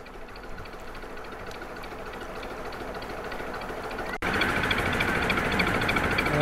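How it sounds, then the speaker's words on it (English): A steady broadband rumble of a train running on the rails beside the Grand Union Canal near Weedon Bec, loud and continuous, its roar jumping up abruptly partway through as it disappears into a tunnel. "There's a train disappearing into a tunnel."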